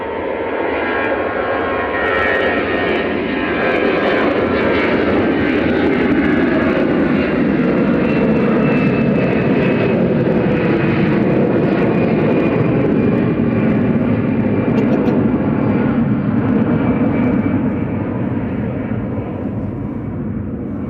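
Jet engines roar loud and steady for a go-around at Manchester Airport, a sustained broadband rumble with a high whine running throughout and no one speaking.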